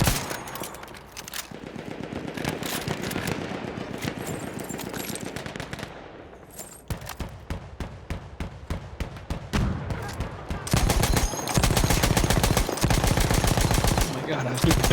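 Gunfire in Battlefield 1 as dense, rapid bursts of machine-gun and rifle shots, loud and nearly continuous, heavier toward the end, with voices talking over the din.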